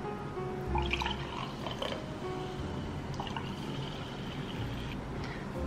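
Home soda maker carbonating a chilled bottle of water, low bursts of gas injection with bubbling and dripping water, fairly close, over a steady room background.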